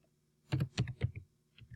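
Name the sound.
typing a number on a computer keyboard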